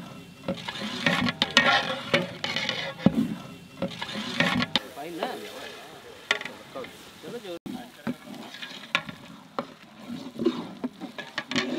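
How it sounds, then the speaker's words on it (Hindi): Ginger garlic paste with cinnamon and bay leaves sizzles softly in a pot at a Banarasi feast kitchen, with uneven stirring scrapes and clatter running through it while voices talk over the cooking. "उन्होंने अदरक और लहसुन का पेस्ट डाला और दालचीनी के साथ कुछ तेज पत्ते डाल इस हिसाब से भूना कि अदरक और लहसुन का कच्चापन निकल जाए"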